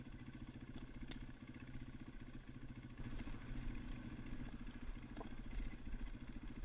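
A light motorcycle used for deer hunting runs steadily nearby with a low, rhythmic engine putter that grows slightly louder midway, with a few faint clicks on top.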